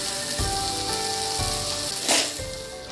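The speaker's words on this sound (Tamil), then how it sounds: "இது கொஞ்சம் நல்லா ஃப்ரை ஆகட்டும்." A piece of cobia fish frying in a pan gives a steady, moderately loud sizzle with soft crackling, plus a brief burst of hissing midway, under faint background music.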